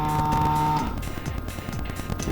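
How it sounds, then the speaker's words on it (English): Air pump of a VROC initium viscometer switching on, a steady hum that gives way to a rougher, lower mechanical whir, close and fairly loud. "that noise you just heard is simply the air pump turning on"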